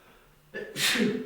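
A short, breathy sneeze bursts out close to the listener over quiet room noise, following a brief intake of breath.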